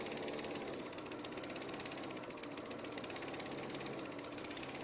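Lawnmower engine fitted with a GEET fuel processor, running steadily and loud with a continuous buzzing drone and rattling vibration throughout, no voices.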